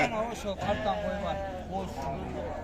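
Lambs bleating at a sheep and livestock market in Sokuluk, with repeated wavering bleats close by over a steady background of crowd voices and market bustle.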